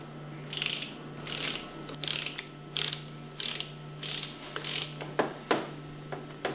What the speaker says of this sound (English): reinstall the plunger nuts and torque them between 115 and 120 inch pounds